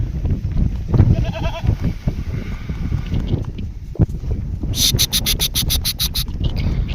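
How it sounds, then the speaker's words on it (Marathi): Grazing goats bleating intermittently amid outdoor rustling and shuffling, with a quick rhythmic metallic rattle near the end. "या ठिकाणी शेळ्या आलेल्या आहेत पहा. चरायचं काम चालू आहे."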